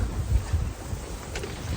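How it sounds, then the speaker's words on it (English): Gusty wind buffets the microphone in low rumbling bursts beside a campfire in the woods, a short rough whoosh with no voices. "It's like super windy and stuff, so hopefully the fire will stay lit for a while."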